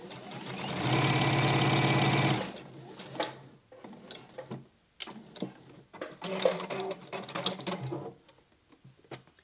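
A home sewing machine runs a steady, loud burst of stitching on a T-shirt neckband for a Jalie Nico raglan tee, stopping after a couple of seconds and giving way to quieter, irregular handling and fabric sounds.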